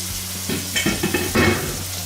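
Venison searing in a hot pan gives a steady close sizzle, broken by a few louder bursts of hissing and scraping as the meat is pressed down. No one speaks.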